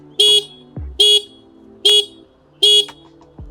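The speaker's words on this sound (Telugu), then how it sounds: "చాలా లౌడ్ హార్న్ ఉంది" Four loud, evenly spaced horn blasts from a 2025 Honda Livo 110 motorcycle, each short and bright, sounding close by with quiet gaps between them.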